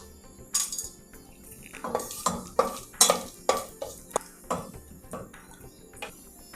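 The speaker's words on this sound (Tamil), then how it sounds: "கொஞ்சம் பொரியட்டும் இது." Bay leaves, cinnamon pieces and cloves fry in ghee in a cooker, with a low sizzle under a run of sharp scraping stirs and metal clinks from a spoon against the pot, close up and no talk.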